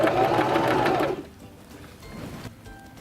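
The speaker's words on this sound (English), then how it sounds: "This will sew the top of your buttonhole, the bar tack. We're going to sew this about 6 to 8 stitches." A Singer Start 1306 sewing machine stitching a buttonhole bar tack, a rapid, loud mechanical whir of needle strokes lasting about a second before stopping, leaving quiet room tone.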